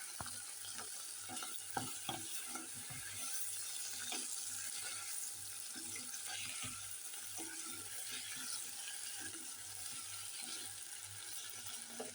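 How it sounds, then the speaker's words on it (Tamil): Tomatoes stirred and sautéed in a pan, with a faint, continuous sizzle and light scraping ticks from a spoon, distant and quiet throughout. "கிண்டி போட்டு கொஞ்சம் நேரம் தக்காளி பழம் கொஞ்சம் வதங்கணும்."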